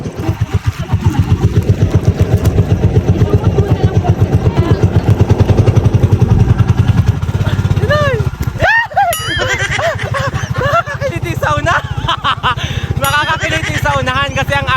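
A loud, rhythmic motorboat engine thumps steadily on Taal Lake, joined midway by splashing water and excited voices talking over the engine.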